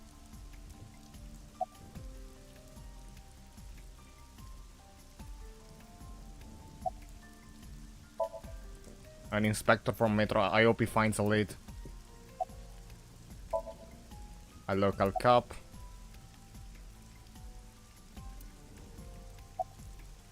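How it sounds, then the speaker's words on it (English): Steady rainfall in a video game, AI: The Somnium Files, patters throughout, with two short bursts of muffled speech rising over the wet background. "The rain is awful, huh?"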